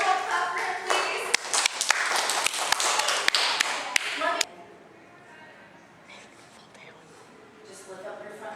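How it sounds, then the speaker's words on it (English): A group of people claps together for a student in a class, a dense run of overlapping claps lasting about four seconds and then stopping abruptly, followed by quieter room sound with voices speaking. "Everyone clap for him"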